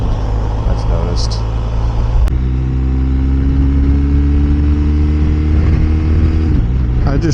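BMW R 1250 RS motorcycle on a test ride, engine droning steadily and then pulling higher after a sharp shift click, heard close with wind noise.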